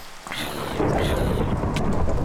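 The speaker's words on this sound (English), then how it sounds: "Oh, thunderstorm!" Thunder rumbling and steady rain during a thunderstorm in the video game SurvivalCraft, a loud low roll building over a rain hiss, with no talk.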